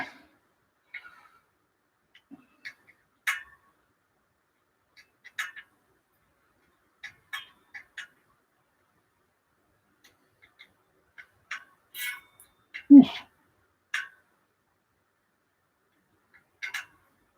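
Sparse, faint squeaky chirps and clicks from a bicycle part being tightened, sounding one at a time with quiet gaps and one louder squeak near the middle.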